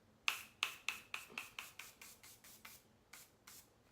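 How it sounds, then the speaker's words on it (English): A dozen quick spritzes of fine makeup setting spray mist, close and crisp, pumped in a steady rhythm that gradually softens. "So I'm gonna spray a little bit."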